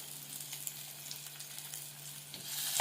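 Onions and curry leaves sauté in a pan, producing a soft, steady sizzle with light stirring scrapes nearby, growing louder at the end, with no voice.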